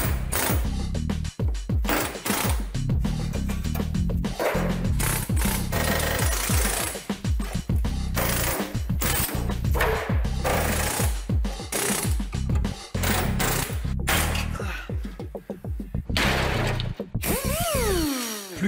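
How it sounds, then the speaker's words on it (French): Pneumatic air chisel hammering out spot welds on the floor pan of a Renault 4L, a loud rapid chattering burst that runs almost continuously, broken by short pauses between welds, with metallic ringing and no talk. "Pour faire sauter les points de soudure, je vais utiliser un burin pneumatique."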